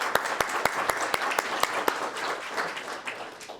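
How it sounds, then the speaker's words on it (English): An audience at a business software presentation applauds, with several sharp, loud claps standing out over a dense wash of clapping that fades slightly toward the end. "Let's give the Camelot team and everybody a big round of applause for that."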